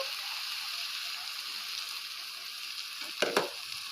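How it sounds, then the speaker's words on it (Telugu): Bottle gourd halwa cooking with milk in ghee keeps up a steady soft sizzle and bubbling, with a brief scrape and clatter of stirring near the end and no talking. "కలుపుతూ ఉండాలి ఫ్రెండ్స్ దగ్గరికి అయ్యే వరకు"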